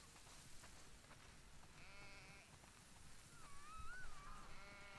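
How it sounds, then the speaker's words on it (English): Faint sheep bleats rise from a noisy game background in The Last of Us Part II, a few wavering calls toward the end, no talking. "Yes. That's a lot of sheep."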